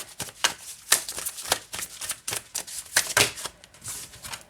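Rapid bursts of tarot cards riffling and slapping together, repeated in quick uneven clusters, close and crisp with no talking.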